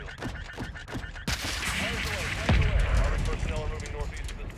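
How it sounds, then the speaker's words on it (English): A heavy missile impact explosion booms in Call of Duty: Modern Warfare 2 during an AC-130 gunship mission, following a series of sharp cannon shots and leaving a long rumbling roar with crackling debris. "Impact. Incoming missile."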